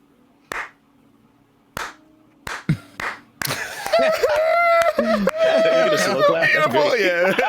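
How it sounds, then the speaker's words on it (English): A few slow, widely spaced hand claps sound one at a time over a faint hum during a podcast, then give way to overlapping laughter and chatter. "so even a slow clap was delayed"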